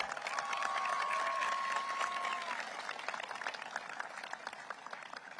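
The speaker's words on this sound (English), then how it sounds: "So please give a round of applause for the parents." A graduation ceremony crowd applauds for the parents, with dense, steady clapping from a large audience that holds loud for a couple of seconds and then slowly thins, a faint whistle rising above it early on.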